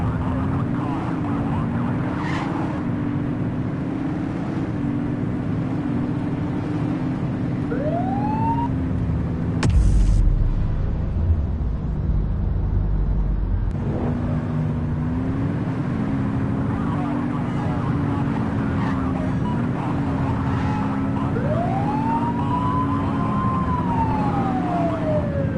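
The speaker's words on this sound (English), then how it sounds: "Turn that siren off." A police car siren in The Precinct video game wails steadily and loud under game sound, with a brief burst of noise partway through and a voice talking over it.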